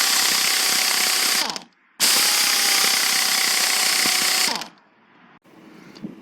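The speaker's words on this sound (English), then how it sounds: "my 3/4 inch square drive CP, I've got it set to forward and at its full power setting" A CP 3/4-inch square-drive air impact wrench set to forward at full power hammers in two loud, rapid bursts separated by a brief pause, followed by a quieter lingering hiss and a faint click.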